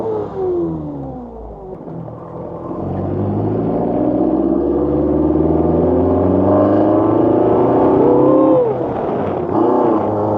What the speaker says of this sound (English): Listen to the VVC kicking in.